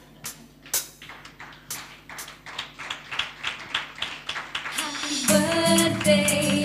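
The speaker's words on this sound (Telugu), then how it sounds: "ఒకసారి అందరు గట్టిగా చప్పట్లు కొట్టండి." A church congregation claps for a birthday: a steady run of roughly a dozen sharp, evenly spaced claps, near and fairly loud, swelling into denser sustained clapping mixed with a ringing tone toward the end.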